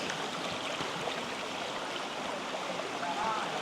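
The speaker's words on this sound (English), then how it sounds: "Now we're walking up a creek." Water flowing along a creek in a rocky gorge, a steady broadband rush and trickle heard close and continuous throughout.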